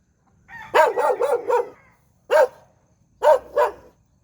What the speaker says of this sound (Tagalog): Tinatahulan ako ng aso